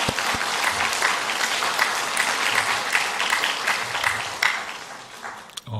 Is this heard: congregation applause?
yes